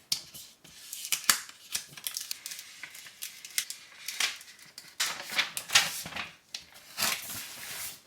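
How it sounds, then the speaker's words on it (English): Vinyl decal backing being peeled off during a craft wrap of a glass can, heard as a series of close, crisp crackling and tearing bursts, stop-start and irregular, with no talking. "And then I'm gonna peel this backing off."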